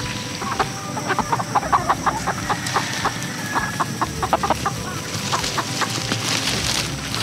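Chickens on a farm cluck and squawk in quick, scattered bursts as they are chased along. The birds are moderately close, with a steady outdoor background hum beneath them.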